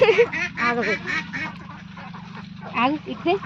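Ducks at their feed give several close, nasal quacks in short bursts, with a person speaking in between.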